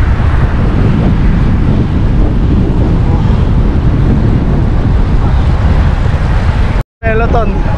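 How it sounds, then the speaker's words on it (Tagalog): Strong wind roars over the microphone while cycling in Taiwan, a loud, continuous buffeting rumble that swamps everything, broken once by a brief gap near the end. "Sobrang lakas ng hangin."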